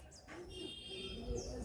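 Madrasi and Andhra pigeons in a loft in Howrah give soft, low cooing calls with a few faint chirps, quiet against a steady background hum.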